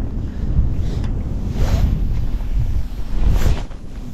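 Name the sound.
wind blowing while pike fishing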